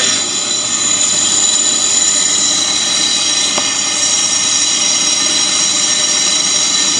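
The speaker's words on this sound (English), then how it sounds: "Now it's going to start machining." A brake lathe machining a brake drum, giving a steady, loud metallic whir and grinding hiss with a high ringing tone that runs evenly throughout.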